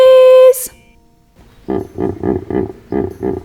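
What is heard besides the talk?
hippopotamus snorting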